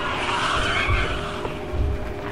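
A vehicle engine in the video game Lethal Company roars and whines loudly, with skidding, tire-squeal-like surges over a continuous drone and no voices.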